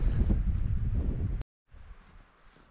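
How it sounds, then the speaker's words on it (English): Heavy wind in the Scottish highlands buffets the microphone in loud low rumbling gusts, cuts out briefly, then returns as a softer steady roar. "it is extremely windy here"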